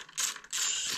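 A ratchet fitted with a 10mm socket loosens a coolant pump bolt on a CBR600F4 motorcycle, making two short, close clicking bursts with a brief pause between them.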